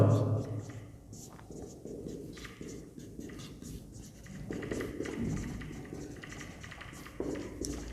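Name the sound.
writing on a board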